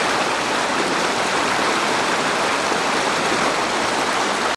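A river in Taiwan's Fuxing District, Taoyuan, rushes steadily past a bend below a steep stretch, a loud, dense, unbroken wash of flowing water with no voices.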